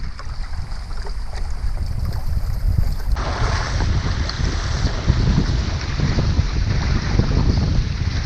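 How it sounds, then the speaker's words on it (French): Steady wind at sea buffets the microphone in a constant roar, with water washing around a sport catamaran underneath off Baie-Mahault and no one speaking. "Ça bouge un peu plus là, le vent s'est levé un peu."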